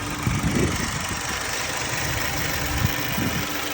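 A 2013 Hyundai Sonata with a 1600cc engine idles in a steady, moderately loud low rumble with slight uneven pulses, and no talking.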